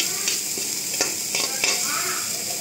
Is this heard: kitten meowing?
no